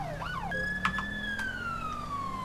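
A police car siren in the video game GTA 5 wails loudly, rising and falling in a smooth sweeping tone that is close and continuous, with a low vehicle hum beneath it and no voices.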